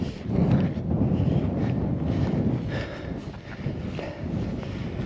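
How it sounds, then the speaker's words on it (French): Wind blows across a mountain ridge in Ariège near Mont Fourcat, gusting and buffeting the microphone in a loud, continuous rumbling roar that rises and falls. "Et là, le vent, il recommence à souffler."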